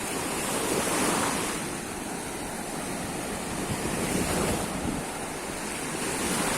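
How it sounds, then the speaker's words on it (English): Steady sea surf rolling in at Levante beach on an evening walk, a continuous broadband wash that swells and eases, with wind buffeting the microphone and no voices. "I'm just walking along in the sea."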